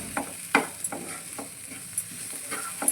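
A spoon scrapes and taps in a pan while pasta seasoning powder is stirred in, giving a handful of soft, separate strokes close by and fairly quiet, with no talk.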